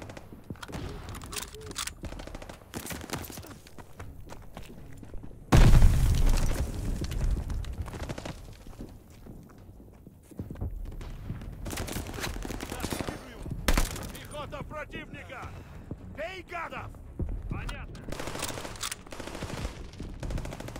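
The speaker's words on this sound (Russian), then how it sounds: "Оружие к бою!" Bursts of rapid machine gun fire rattle repeatedly amid chaotic battle noise and explosions in the video game Call of Duty: Vanguard, loud and close, with shouting voices mixed in.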